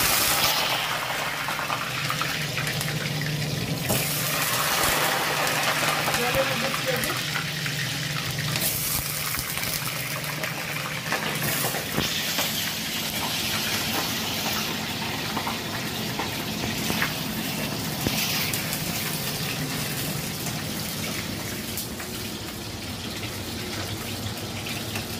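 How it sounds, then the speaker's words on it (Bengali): Potato pieces spatter and sizzle in hot oil in a home kitchen, a loud, continuous close crackling hiss with bursts of popping, and no talk. "জলের মধ্যে আলুগুলো ছিঁড়েছে আর ছটফট ছটফট করে ছিটছে"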